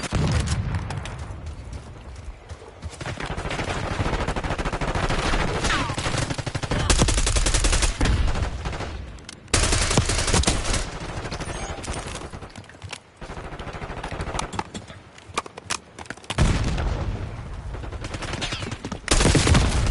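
Gunfire in a first-person shooter video game: loud sustained automatic bursts and rapid shots with brief pauses and short gaps of near silence, dense and close throughout.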